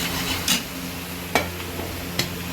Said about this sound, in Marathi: आपला कांदा हा असा छानसा परतत आहे.